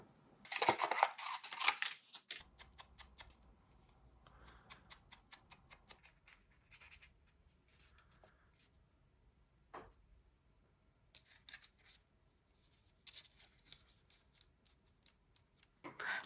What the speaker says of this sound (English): next I will be cutting the little tags for the cups